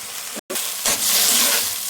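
Onions and chopped carrots go into a hot pan for fried rice, with a loud, steady sizzle that briefly cuts out, then swells into a fuller, hissing fry as the vegetables hit the oil.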